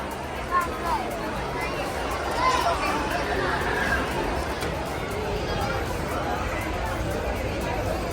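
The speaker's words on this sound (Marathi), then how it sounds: "जसं काय फ्री मध्ये वाटतंय तेवढी गर्दी आहे" Dense crowd chatter fills a busy saree shop in Thane, a steady indoor babble of many overlapping voices with no pauses.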